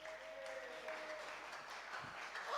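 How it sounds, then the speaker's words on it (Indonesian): A church congregation applauds during a service, a steady, moderately distant clapping texture with a faint sustained tone underneath, holding evenly throughout. "Tepuk tangan untuk Tuhan Yesus dulu."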